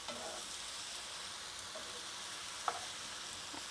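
Vegetables such as broccoli stir-fried and stirred in a hot pan, a steady close sizzle with a few faint scraping clinks from the stirring, no voices.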